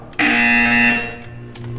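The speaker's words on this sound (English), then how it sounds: "You will hear a buzzer." A loud, steady electronic buzzer tone in the video game Portal 2 sounds for just under a second, then fades into a lingering hum, with a brief click near the end.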